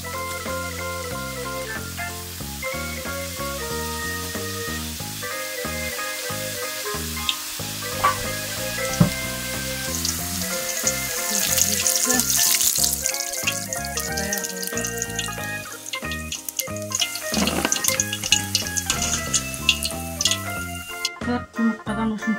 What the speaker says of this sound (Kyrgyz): Кесип алган камырыбызды салып алабыз бышырганга.